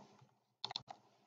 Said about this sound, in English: I'm going to ignore that and keep typing